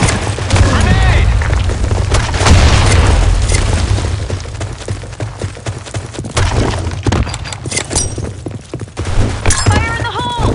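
Grenade blasts and gunfire in the online shooter Blackshot, on the Sand Storm map, with dense overlapping booms and crackling shots running loud and continuous throughout, while voices shout over the fighting.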